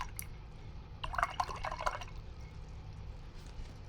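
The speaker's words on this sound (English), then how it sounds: "I'm going to rinse my brush." A paintbrush is swished and tapped in a cup of water while painting with acrylics, a short burst of faint, close splashing and dripping against quiet room tone.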